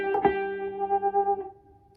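A single blues guitar phrase rings out and ends on a sustained note with quick butterfly vibrato, processed through effects, then fades away.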